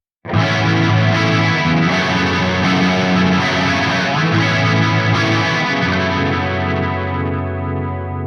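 Soldano SLO-100 X guitar amp with its chorus effect turned up to full mix, producing a loud, sustained distorted guitar chord that swirls and shimmers as it rings out slowly for several seconds.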